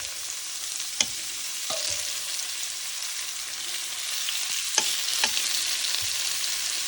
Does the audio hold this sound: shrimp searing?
yes